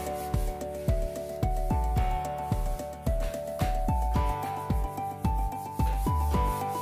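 A cotton ball soaked in nail varnish remover is rubbed back and forth over the printed edge of a diamond painting, making regular scratchy strokes about twice a second, close and clear.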